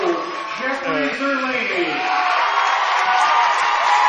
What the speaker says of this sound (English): he gets a big round of applause